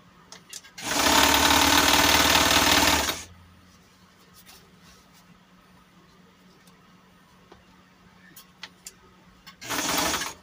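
A home sewing machine runs in a loud steady burst, stops, then starts again briefly near the end while making a folding fabric bag with a zipper, its bobbin thread run out so it turns without stitching.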